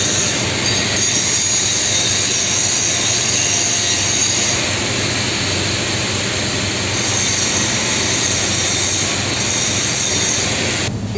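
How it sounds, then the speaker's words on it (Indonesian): A line boring machine, used to rebore worn bushing seats on mining equipment, runs with a loud, steady, unbroken mechanical roar and hiss that holds the same level throughout. "Dia mesin land boring"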